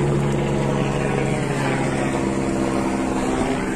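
A steady, loud droning rotor and engine roar overhead, constant throughout with a low throbbing hum and no voices.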